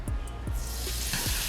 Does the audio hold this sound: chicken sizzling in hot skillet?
yes